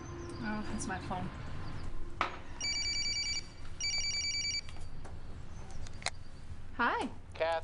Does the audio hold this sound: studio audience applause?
no